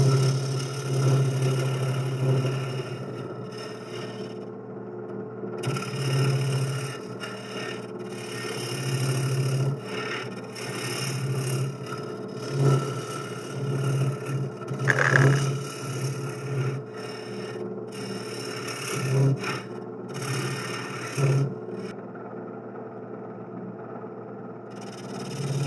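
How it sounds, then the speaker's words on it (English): A 3/4 inch straight hollowing tool cuts blue ash on a wood lathe, scraping steadily over a continuous motor hum. Louder scrapes come and go in uneven strokes, and no one speaks. "This is my 3/4 inch straight hollerer from John Jordan wood turning"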